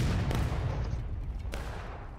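Musket fire in the Civil War video game War of Rights: a loose volley of distant shots cracking and booming, followed by a rolling, fading rumble of independent fire.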